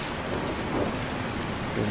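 Dense, constant rain pours in Truck Simulator Ultimate, a broad even hiss of drops on surfaces with no break, close and fairly loud, alone without talk.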